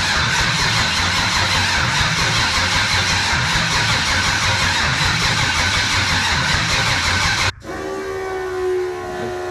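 A Mailmanche machine's engine runs loud and continuous, a heavy mechanical roar with a steady throb, then cuts off abruptly near the end, leaving quieter background noise.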